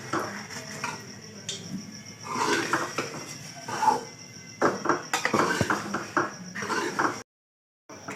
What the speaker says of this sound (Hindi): देखिए, सूजी को भूनते हुए अभी मुझे 4 से 5 मिनट हो चुके हैं